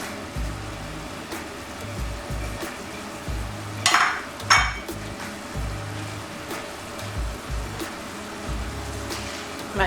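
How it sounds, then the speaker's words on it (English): Parsley leaves tossed into a hot pan while salmon cooks, a steady sizzle and frying crackle with a couple of sharp stirring scrapes near the middle. "I'll add my parsley leaves."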